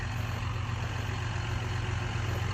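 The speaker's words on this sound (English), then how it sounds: "Here's the tractor I'm using." A John Deere 7215R 7000 series tractor engine idles steadily with a deep, even low rumble, held close and constant throughout with no speech.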